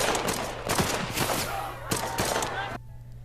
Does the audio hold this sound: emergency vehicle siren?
no